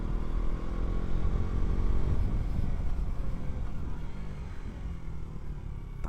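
A motorcycle rides along steadily, its engine a low, continuous rumble with road and wind noise, fairly even in level throughout.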